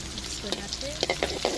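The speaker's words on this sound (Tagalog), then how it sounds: "Stir fry po natin." Garlic, onion and ginger are being stir-fried in a pan for catfish adobo, giving a soft sizzle with several quick scraping stirs, close and fairly quiet, with no talking.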